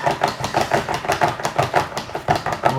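Yorkshire pudding batter of flour and eggs being whisked briskly by hand in a bowl, a fast steady rhythm of repeated clattering strokes, close and fairly loud with no talk.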